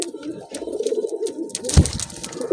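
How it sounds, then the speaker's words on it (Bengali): A pair of pigeons coo close by in soft, throaty, repeated calls, with a brief thump near the middle and faint rustling in the background. "একদম পিওর জোড়া আছে পায়রা দুটো"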